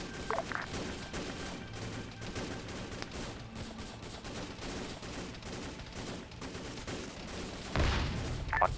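Arma 3 Vietnam-era gunfire rattles in repeated bursts, distant and fairly faint, with sharper nearer shots near the end.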